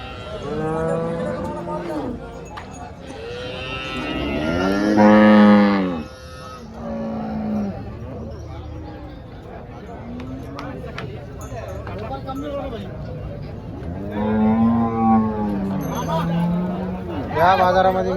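Several loud, drawn-out cow moos ring out amid a busy cattle market in Chalisgaon, with people talking nearby and general crowd noise throughout.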